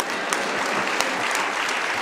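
An audience applauds at a Tamil pattimandram debate, the clapping dense and loud and staying even from start to finish with no voices over it.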